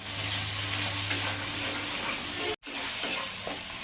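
Chopped tomato fries with salt and turmeric in a pan, a loud close hissing sizzle that holds steady, broken by one brief cut of silence, with no voices.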